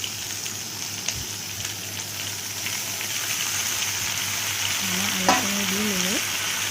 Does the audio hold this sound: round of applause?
no